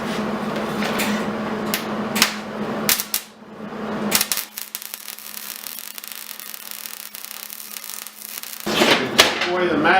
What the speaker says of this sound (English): And now my metal's clean, we did all the prep work, and we're ready to weld.